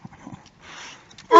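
A Boxer dog gives a single sharp, loud bark at the very end, after a second of soft whimpering and rustling noises close by.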